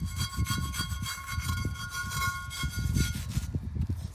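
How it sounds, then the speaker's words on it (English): Cleaned car brake parts from a Ford Courier being scrubbed by hand, a close, rhythmic rasping rub repeating steadily back and forth with no voices. "now he's just going to give it a bit of a scrub"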